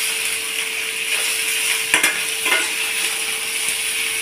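Broccoli and cauliflower fry in oil with onion, a steady bright sizzle running throughout with a few louder scraping stir strokes near the middle; no one speaks.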